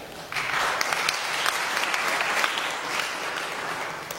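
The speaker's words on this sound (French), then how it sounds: "vous le témoignez par vos applaudissements" Sustained audience applause fills a political meeting hall in Paris, a dense, steady clatter of many hands clapping with no talk over it, holding at an even loudness throughout.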